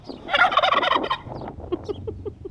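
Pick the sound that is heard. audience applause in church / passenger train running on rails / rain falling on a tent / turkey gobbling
turkey gobbling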